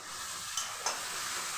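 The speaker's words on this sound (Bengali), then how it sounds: "এবার সবগুলো দিয়ে ভালোভাবে একটু কষিয়ে নিই" Onion, garlic, tomato and spices stir-fried in a pan for a koi fish curry, a steady soft sizzle with two brief scraping stir strokes close by, no voices.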